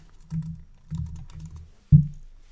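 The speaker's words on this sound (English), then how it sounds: "And then I just start typing and it overwrites what was already there." Keys tapped on a computer keyboard while editing a Boardmaker Online template, several short close bursts of clicking followed by one sharper, louder keystroke near the end, with no voices.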